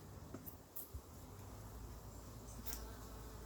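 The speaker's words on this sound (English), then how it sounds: "there's so many bees in here" Honeybees buzz softly and continuously inside a hive, a faint low drone with occasional brief knocks and rustles close by.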